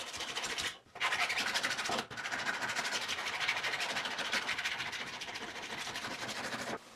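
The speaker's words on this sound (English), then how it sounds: "I make some adjustments with the file where necessary." Continuous harsh rasping of a file scraping across metal, close and steady, with two brief pauses between strokes.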